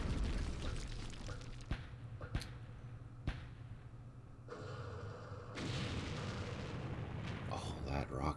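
Rocket and artillery fire in the Campaign Series Vietnam war game during the Battle of Dak To, with sharp repeated blasts over a steady rumbling bed of distant guns and a person talking now and then.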